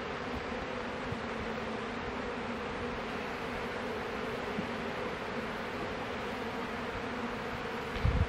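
Honeybees drone steadily inside an open hive, a dense continuous buzz close by, with a faint knock near the end.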